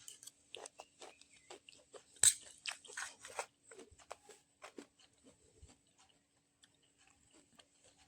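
Crunchy fried corn is bitten and chewed up close, with quiet crisp crunches in an irregular rhythm that fade out toward the end.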